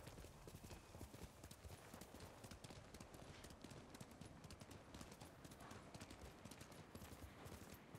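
A horse clip-clops steadily through a stretch of terrain in the video game Ghost of Tsushima, hoofbeats quick and even but fairly quiet, with no voices heard over them.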